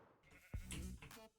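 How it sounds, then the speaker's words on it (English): A single sheep bleat inside a video game, a short wavering call rising out of a quiet ambient background and fading within about a second. "I found some sheep."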